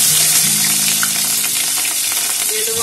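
Cumin and chillies sizzle loudly in hot oil for a Bengali hilsa fish head curry, a dense, continuous crackling hiss with no talk.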